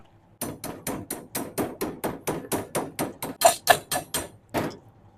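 A hammer taps slag off a freshly filled tack weld on square tubing in a steady series of about fifteen sharp metallic knocks, close and fairly even, with a short pause before the last strike.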